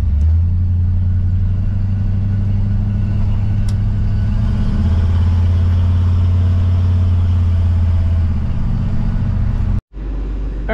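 Squarebody Chevrolet C20 truck engine idling steadily nearby, a loud continuous low rumble holding an even pitch before cutting off abruptly near the end.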